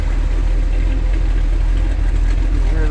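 A restored 1969 Plymouth Road Runner with a HEMI engine and four-speed idles steadily, its dual exhaust giving a deep, continuous rumble that stays loud and close throughout with no pauses.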